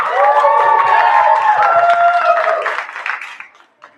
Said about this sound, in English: Let's give another round of applause for Jonathan